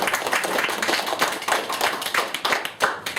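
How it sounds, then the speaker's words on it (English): Hands clap in a dense burst of applause from an audience at an evening talk, steady and fairly close, with a few louder individual claps standing out and no voices. "Round of applause now."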